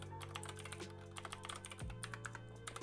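Quick, irregular keystrokes on a computer keyboard while code is typed, soft clicks and taps at close range with no speech.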